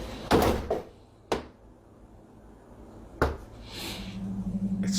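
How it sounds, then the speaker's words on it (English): A door closes with a few sharp thuds and knocks spaced apart, fairly close, followed by a rising hiss of background noise. "As soon as he closes the door."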